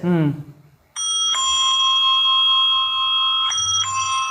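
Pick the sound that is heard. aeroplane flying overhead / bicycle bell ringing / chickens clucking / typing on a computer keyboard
bicycle bell ringing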